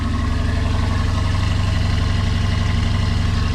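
A car engine idling steadily just after a cold start, a continuous low rumble with even pulsing, loud and close, with no voices.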